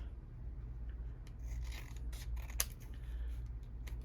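Scissors trimming a paper craft piece, a few quiet close snips and rustles over a low background hum.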